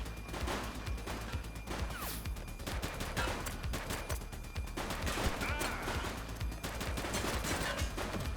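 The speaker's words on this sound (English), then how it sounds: "Doesn't look like they're gonna give us a choice. Light them up! He's shooting!" Gunfire in the police video game The Precinct, a dense, continuous barrage of rapid automatic shots and sharp cracks with scattered impacts, loud throughout with no pause.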